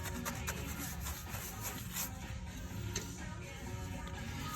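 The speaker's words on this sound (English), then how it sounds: "you can paint on the tannic acid rust converter" A brush rubs tannic acid rust converter onto a rusty Land Rover fuel tank, producing soft repeated scratchy strokes, close and fairly quiet, without talk.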